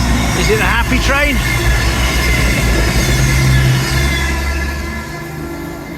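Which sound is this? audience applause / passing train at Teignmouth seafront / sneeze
passing train at Teignmouth seafront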